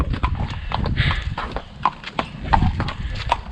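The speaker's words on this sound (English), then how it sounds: "A 2-hour horse ride." Horse hooves clip-clopping steadily at a walking rhythm during a sunset ride in Cappadocia, Turkey, close and clear with faint jingling tack and soft background voices.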